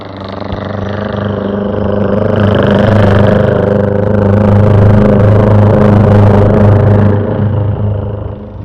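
A performer in a mimicry show uses only his voice to imitate a helicopter's rotor passing overhead. A loud, close, continuous rumbling drone swells in the middle and eases off at the end.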